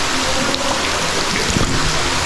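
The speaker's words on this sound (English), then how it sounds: "There's water coming down." Water dripping and pouring down like rain inside a dark natural bridge cave, a dense steady hiss of falling drops and spatter, loud and close, with no talking.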